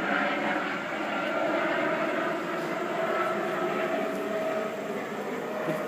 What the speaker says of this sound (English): The Samaritan helicopter for the hospital is flying overhead.